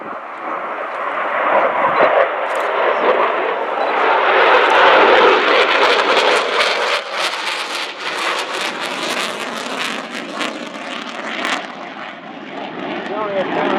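An RAF Eurofighter Typhoon jet roars overhead during an inverted pass at an air show, a loud sustained rushing roar that swells and slowly fades, with a public address voice talking over it.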